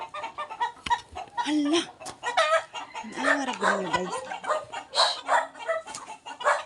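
Chickens cluck and a rooster crows nearby, mixed with outdoor noise while a person speaks briefly over the birds.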